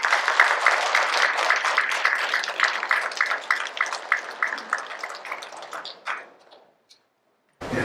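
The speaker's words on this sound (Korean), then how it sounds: "여러분 큰 박수로 맞이해주세요" An audience claps to welcome a priest teaching a confirmation catechism class, a steady round of dense applause that tapers off, ending in a few lone claps before silence.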